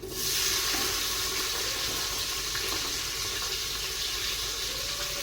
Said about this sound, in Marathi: तर या ठिकाणी तांदूळ आणि सगळे मिक्स बारीक चार पाण्याने धुवून घेतले